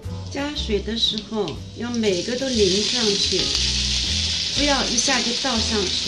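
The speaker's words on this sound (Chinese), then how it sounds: "听到它有声音滋滋滋了， 说明这个锅已经是很热了" Wontons frying in a spoonful of oil in a hot pan over high heat give a loud, steady sizzle that runs the whole time, with someone talking over it.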